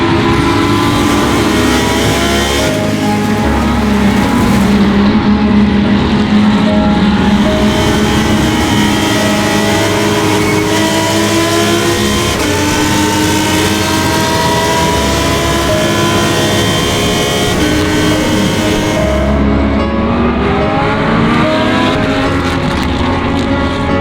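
Lamborghini race cars in the LB Cup class race at Indianapolis Motor Speedway, engines roaring loud and continuous as several cars pass close by, with the pitch swelling and fading as they go.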